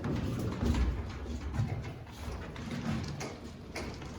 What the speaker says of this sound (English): starting with the old freight elevator that dates back to 1937